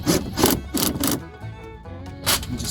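A 2002 Chevy Suburban side window with a newly replaced regulator runs up and down, giving repeated rough rubbing, grinding bursts of glass and motor that rise and fall, close and fairly loud.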